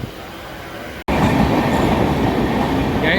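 A train rumbles loudly along the rails with a dense, continuous roar, interrupted by one brief sharp break near the start.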